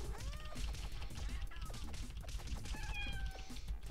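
A cat enemy in the Castle Crashers video game meows repeatedly amid busy game music and combat hits, its rising and falling cries standing out over the dense soundtrack.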